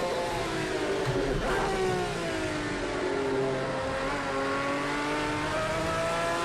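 A Group C race car in Project CARS 2, Algarve circuit, revs loud and close; its engine note climbs and shifts in sweeping tones through gear changes over a continuous whine.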